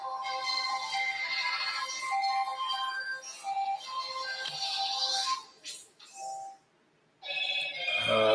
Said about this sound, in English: The phone always has to ring.